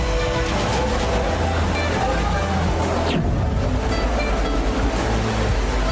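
Floodwater after heavy rain in Kutch, Gujarat, surges with a loud, continuous rushing roar and wind buffeting the microphone, and a faint voice sits beneath the churning water throughout.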